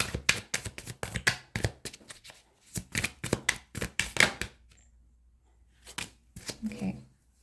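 A deck of tarot cards is shuffled close by in quick riffling, snapping bursts that slow into a few softer taps and card flicks after a short pause.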